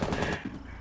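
Rainbow Six Siege gunfire crackles in a quick rapid burst of loud shots, then gives way to a few quieter scattered pops, with no talk over it.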